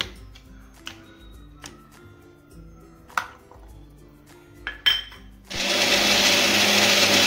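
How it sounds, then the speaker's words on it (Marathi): Scattered clicks and knocks of a jar being fitted in place, then a mixer grinder roars to life blending tomato and cashew into paste, whirring loudly and steadily to the end. "आता एक मिक्सरचं भांडं घेतले, त्याच्यात आपण हे टमाटर आणि काजू याची चांगली बारीक पेस्ट करून घेऊ"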